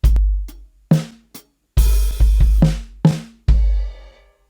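A short drum fill moved from rack tom to bass drum: deep, punchy kick drum hits mixed with cymbal crashes and snare-like strikes, played in a quick uneven rhythm, close and loud.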